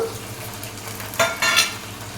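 Oil sizzles steadily in a pan while wheat rava upma is fried with onion, ginger and green chilli pieces, broken by two short louder bursts of stirring and scraping near the end.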